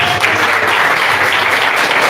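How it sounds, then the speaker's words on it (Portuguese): A church congregation applauds, a loud, dense wash of clapping that continues steadily throughout the short stretch. "Aplauda o Senhor Jesus"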